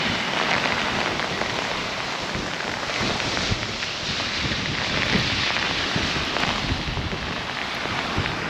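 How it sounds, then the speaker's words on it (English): Heavy rain pours down in a serious downpour with gusting wind, a loud, unbroken hiss of drops drumming on surfaces and buffeting the microphone, with no talk. "That's a serious downpour."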